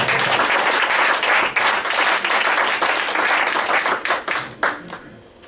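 A church congregation breaks into sustained applause, a dense wash of many hands clapping that stays loud throughout and thins slightly at the end.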